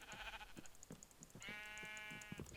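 A sheep in a survival video game bleats in a long wavering cry, with short tapping and thudding sounds around it and a faint repeating high chime in the background.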